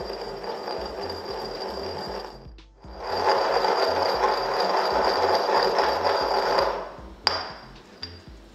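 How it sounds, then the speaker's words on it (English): Silicon crystals larger than 150 microns get crushed again for XRD powder sample prep, a continuous close grinding rattle with steady crunching texture that dips briefly midway, then stops, followed by a couple of sharp ticks. "The silicon crystals above 150 microns are crushed again to reduce their size"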